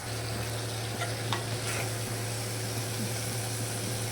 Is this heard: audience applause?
no